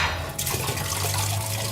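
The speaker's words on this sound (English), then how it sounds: "And the pool is draining." Water rushing out of a pool drain after the plug is pulled, a steady broadband gush and gurgle heard close and alone, with no voices.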